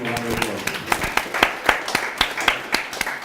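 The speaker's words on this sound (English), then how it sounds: "Give him a round of applause." Clapping for a presenter at a Blackmagic Design conference and expo in Kenya: a few distinct, fairly close claps in an irregular rhythm, with some voices underneath.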